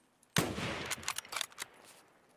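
A gunshot in a video game: one sudden loud blast followed by a quick burst of further sharp reports and a ringing tail that fades within about a second, alone without talk.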